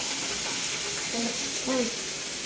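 Vegetables for vaththal kulambu are sautéed together in a pan, giving a soft, steady sizzling hiss with faint voices murmuring in the background.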